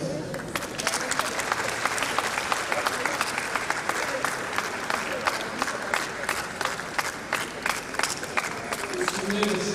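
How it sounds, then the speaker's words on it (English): Sustained audience applause at a university inaugural lecture on enzymes and a clean environment, dense steady clapping filling the hall for about ten seconds with crowd noise and voices beneath. "Can we sustain the applause?"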